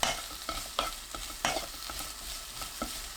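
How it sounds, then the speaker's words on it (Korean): Onions stir-fried in a pan with turmeric powder give a steady, close sizzle broken by repeated scraping strokes of a utensil against the pan, with no voices. "강황가루 반 큰술 넣고 1분 볶아주세요"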